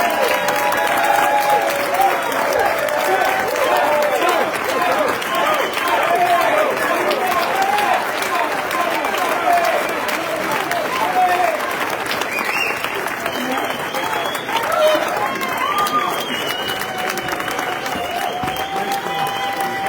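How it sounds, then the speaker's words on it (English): An audience claps for debate candidates, dense, sustained applause from a crowd filling the room for the whole stretch, loud and steady with a slight fade near the end. "Please give our candidates a round of applause."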